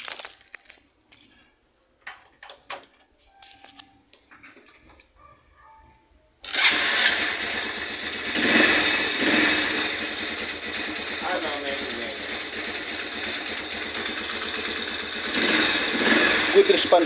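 A motorcycle engine, fitted with a triple-electrode spark plug, starts after some quiet clicks and handling noises, then idles loudly and steadily with a few throttle swells, close by.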